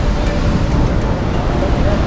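River water in the Kinnaur valley rushes in a loud, steady roar of broadband noise. The flow stays constant and close throughout, with no distinct splashes standing out.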